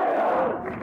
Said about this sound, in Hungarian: A tömeg óriási húj-húj hajrá kiáltással köszöntötte.